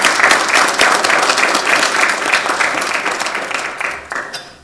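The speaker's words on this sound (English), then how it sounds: "Big round of applause for Scott." A seminar audience applauds after a talk on integrated weed management: loud, thick clapping from a large crowd that gradually tapers off at the end.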